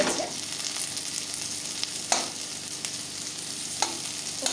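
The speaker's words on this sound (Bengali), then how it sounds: "2 মিনিট পরে আমি ঢাকাটা খুলে সবজিগুলোকে একটু নাড়িয়ে দিয়েছি।" Mixed winter vegetables frying in a pan with a steady, even sizzle, broken by a few sharp scrapes and clinks as they are stirred.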